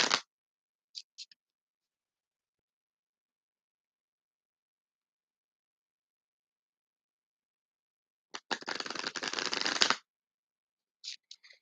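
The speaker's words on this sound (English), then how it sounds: "I'm going to shuffle these Archangel Raphael cards" Archangel Raphael oracle cards are shuffled in a quiet room: a few short riffles near the start, then a longer riffling burst of about a second and a half, with brief card flicks at the end, close and soft.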